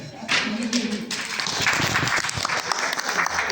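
Lycée students in a classroom applaud after a talk on Senghor's poetry, a dense, steady burst of many hands clapping that swells and holds for several seconds.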